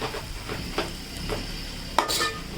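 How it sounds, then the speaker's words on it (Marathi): A utensil stirs turmeric into cooked onions in a pan, scraping steadily under a continuous sizzle, with a sharper clink near the end. "हळद सुद्धा आपण आता भाजीमध्ये मिक्स करून घेतोय"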